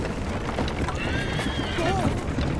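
A horse whinnies in Assassin's Creed Liberation, a loud rising-and-falling neigh with hoof clip-clops and game action noise behind it.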